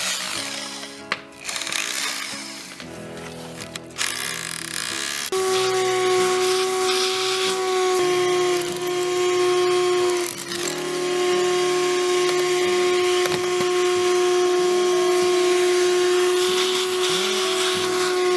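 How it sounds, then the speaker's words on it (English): A hammer drill bores a lodged piece of rock out of an arbutus stump, a loud continuous whine and grinding buzz running steadily with a few brief pauses and pitch shifts, up close with no talking. "Maybe I'll get a hammer drill and we'll try and get this piece of rock out of here."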